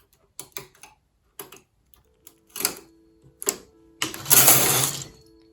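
Knitting machine carriage working a cable pattern, with sharp clicks and clatters followed by a longer rushing swipe of the carriage across the bed, close and fairly loud.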